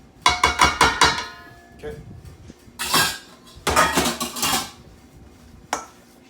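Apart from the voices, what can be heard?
scraping garnish into lamb sausage mixture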